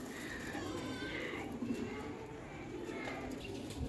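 Soft, low cooing comes from a high-flyer pigeon in a Lahore flock, murmuring in the background while someone talks over it.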